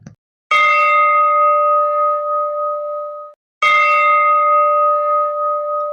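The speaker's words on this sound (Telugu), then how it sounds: "గంట మోగింది కదండి మనకి ఆహ్వానం లభించినట్టే" Two long bell-like chimes from a ticket booking site, each a bright sustained ring that fades over about three seconds, with a short gap between them and no voices.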